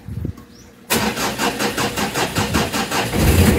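A Mitsubishi Adventure engine cranks and catches after a fuel filter change, then settles into a steady, close idle with a rhythmic pulsing and a slight rev near the end.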